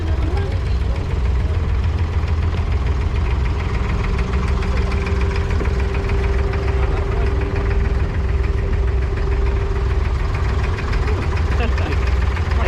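An abra boat's engine idles on Dubai Creek, a steady, close, rumbling drone with a faint knocking pulse and vibration, continuous throughout, with faint voices in the background.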